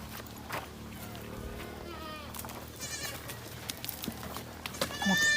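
Anglo Nubian goats in a backyard farm in the province bleat a few times at close range over rustling and movement, with a person talking nearby.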